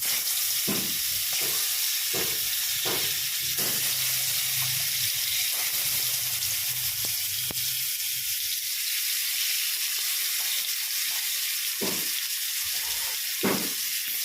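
Eggplant frying in hot oil in a wok gives a steady, close sizzle throughout, broken by a few soft knocks and stirring sounds, with no talking.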